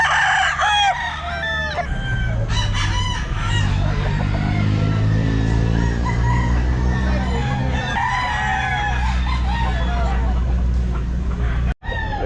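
Sweater gamefowl roosters at a crowded pet market crow loudly and repeatedly, several long cock-a-doodle-doo calls overlapping with clucking, over a busy hum of crowd chatter and passing traffic.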